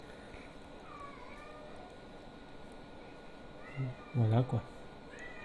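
A house cat meows near the end, several short close calls in quick succession, over a steady indoor background, with someone speaking briefly.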